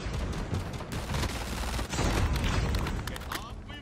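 Pistol fire in COD Mobile battle royale sounds as a loud, sustained volley of gunshots and booms with brief dips, close and forceful throughout.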